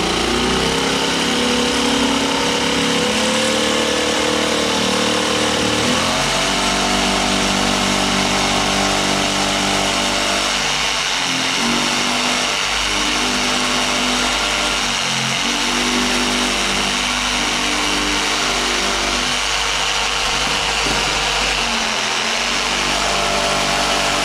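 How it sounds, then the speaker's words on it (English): A Black & Decker power drill bores a hole in wood, its motor whining loud and close for the whole stretch, with several brief dips and surges in speed as the bit works through. "Let's see if we can get this hole in here."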